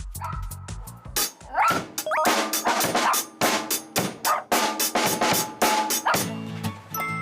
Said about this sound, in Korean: 짖는 소리는 또 얼마나 큰지 옆 사무실까지 울려 퍼질 정도